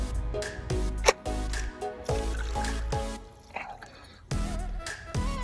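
Plastic trading card grading slabs dropped one after another into an outdoor pool with algae, giving a series of wet plops and splashes separated by short gaps.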